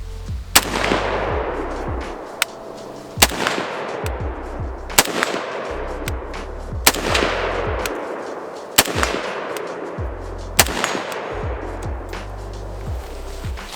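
An IWI Galil ACE 5.56 pistol with an 8.3-inch barrel fires at targets 75 yards away, giving six loud, sharp gunshots spaced about two seconds apart, each followed by a fading echo.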